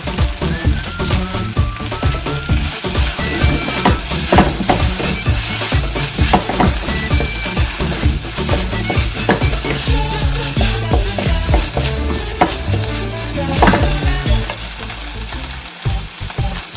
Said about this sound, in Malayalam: ഇനി ഇതിലേക്ക് കറിവേപ്പില ഇട്ട് കൊടുക്കാം